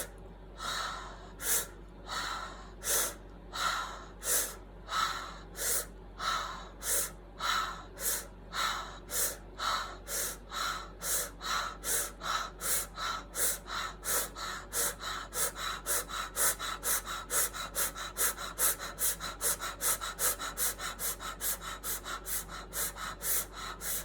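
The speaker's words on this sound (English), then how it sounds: "I'm going to start accelerating the breathing, so just keep following my pace into the chest area" Accelerated breathing during a guided breathing exercise, sharp rhythmic inhale-exhale puffs that start spaced and quicken into a rapid, steady series, close and clear with no talking.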